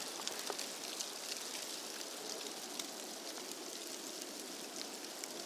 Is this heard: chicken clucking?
no